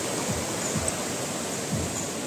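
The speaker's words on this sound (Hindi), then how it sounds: "तो नदी देखिए बहुत ही उफान पे है नदी।" The Ganges river in flood rushes as a steady, loud broadband roar of churning water that runs unbroken throughout, with no talk.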